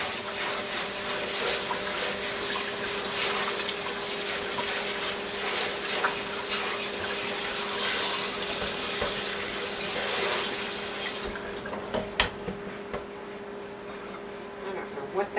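Tap water runs steadily into a sink while catfish are rinsed, a continuous hissing stream that cuts off sharply toward the end, leaving faint handling clatter.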